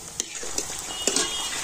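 Pitha fries in hot oil with a soft, steady sizzle, broken by a few light taps of a spatula against the pan, fairly quiet throughout.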